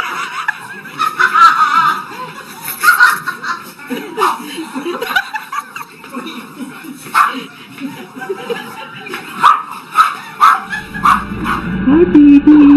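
A dog barks repeatedly in sharp, loud bursts up close, mixed with laughter and chuckling voices, and a low hum enters near the end.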